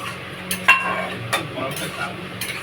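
Lentil dumplings stirred into boiled mangoes in a pot, giving a few soft scraping and clinking knocks of a spoon against the metal over a low simmering background.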